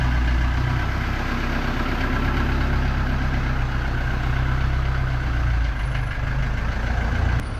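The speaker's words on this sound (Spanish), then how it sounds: "ya está la combi en marcha" A Volkswagen Kombi van engine idles steadily and loudly up close, a constant low rumble with an even throb that holds without a break and has no voices over it.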